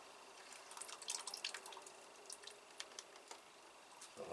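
Water dripping and trickling from a Paphiopedilum orchid pot dipped in a bucket during repotting, a faint irregular patter of small close drips, busier at first and then thinning out.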